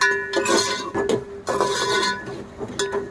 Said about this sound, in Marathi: फास्ट गॅसवर परतूया.